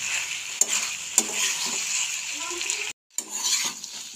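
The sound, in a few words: stirring chilli mushroom mixture in a frying pan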